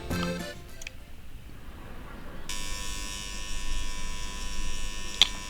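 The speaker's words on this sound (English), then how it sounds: "Sounds like a shaver." Steady electric shaver-like buzz from the video game Trails in the Sky FC, at the Royal Jenis Academy school festival, starting after a brief noisy moment and holding a constant tone with one small click near the end.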